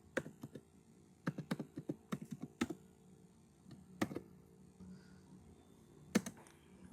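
Quiet keyboard typing at a computer during a coding walkthrough: irregular bursts of soft, close clicks and taps separated by short pauses.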